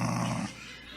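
A voice imitates a dog growling, a short, loud, rough rumble in the first half that trails off into quieter noise.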